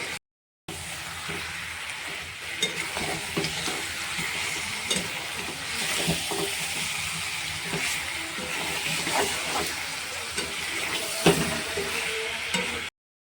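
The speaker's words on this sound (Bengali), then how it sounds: "চামচে দিয়ে একটু নেড়ে নেব মধ্যে যাতে মশলাটা ঢোকে" Mutton masala is stirred with a spoon while it browns in a pot, giving a quiet, continuous sizzle with intermittent scraping strokes throughout, close by and free of talk.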